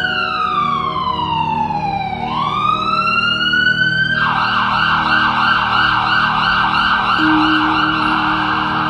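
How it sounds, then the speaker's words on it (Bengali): Loud ambulance siren close by, first a long wail that falls and rises again, then a rapid warbling yelp that keeps cycling steadily, with no voices over it. "অ্যাম্বুলেন্সের ঘন ঘন আসা যাওয়া কানে আসে তার হুটারের আওয়াজ"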